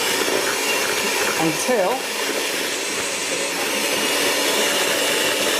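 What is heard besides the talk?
electric mixer whisking eggs and sugar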